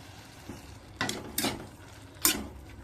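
Five large chopped tomatoes, about 400 grams, drop into a pan of softened onions in three or four quick clattering bursts, with a faint sizzle and utensil scrapes in between.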